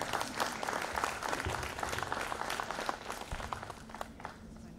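A room full of people claps steadily at a book launch evening event, a dense wash of applause that slowly thins and softens toward the end, with no talk over it.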